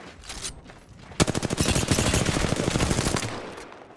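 Loud, rapid automatic gunfire in a console shooter game, a dense burst of evenly spaced shots lasting a few seconds after a few scattered earlier sounds, close and without talk.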